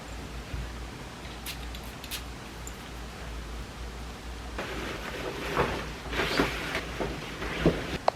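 Morning rain falls with a soft, steady hiss, then grows louder and rougher partway through with scattered rustles and brief thumps close by, with no voices.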